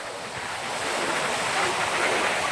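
Sea surf rolls continuously onto a beach on the coast near Chennai, a broad, steady roar mixed with wind buffeting the microphone, with no break in the wash.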